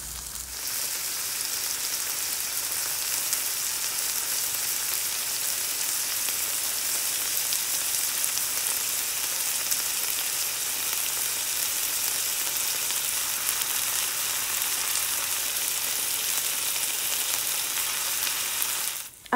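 Mixed vegetables and frozen peas fry in a pan with a loud, steady, close sizzling hiss that runs unbroken for a long stretch, with no talking over it.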